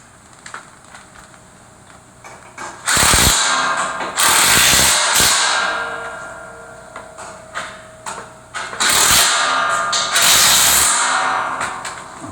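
A ratchet tightens the nuts on two U-bolts while a pony cart is assembled, heard as loud bursts of rapid clicking in several separate runs with brief pauses and small clicks between them.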